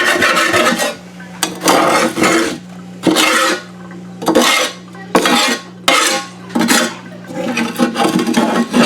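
A stainless steel wok spatula scrapes across a pizza pan in repeated firm strokes, harsh metallic rasping in bursts about a second apart, close and loud, with a low hum beneath.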